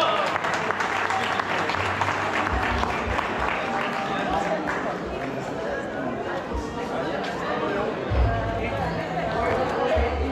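Crowd at an outdoor family event applauding a singer, a sustained wash of clapping mixed with cheering and chatter, with a low hum underneath throughout.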